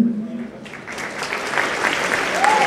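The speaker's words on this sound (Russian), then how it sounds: "под ваши аплодисменты приглашаю ребят из хора" Audience applause welcoming a Russian Army choir on stage for students, clapping building from quiet to fuller and louder over a few seconds, with a voice briefly audible at the start.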